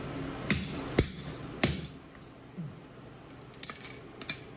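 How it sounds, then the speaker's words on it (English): Sharp metallic hammer taps on spur pieces being forged, three spaced strikes followed by a few quicker lighter ringing hits, close by in a quiet space. "we're gonna try to get these tapped in there"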